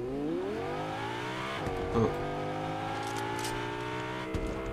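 A car engine in the video game Fortnite drones steadily with harmonic whine, revving and shifting pitch as it drives, with a couple of brief knocks partway through.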